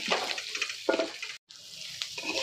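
Potatoes frying in a pan with turmeric and spices, stirred in short scraping bursts over a steady close sizzle, with a brief silent gap midway.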